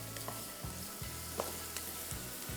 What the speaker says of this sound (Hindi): सबसे पहले इसमें लहसुन को हल्का सा करेंगे फ्राई